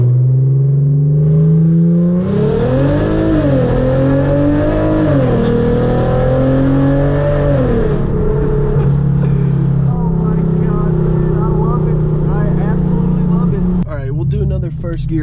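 Hyundai Genesis Coupe engine at full throttle in first gear with traction and stability control off, a loud roar climbing and dipping in pitch, then easing off, heard close from inside the car with people talking over it.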